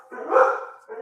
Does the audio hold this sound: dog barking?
yes